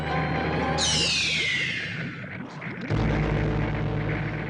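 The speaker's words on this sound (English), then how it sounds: "What is that? Explosion?" An explosion sound effect: a bright descending whistle falls for about two seconds, then a loud, sudden boom lands and leaves a heavy, sustained low rumble to the end.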